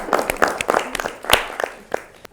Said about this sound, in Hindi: जोरदार तालियां बेला के लिए भी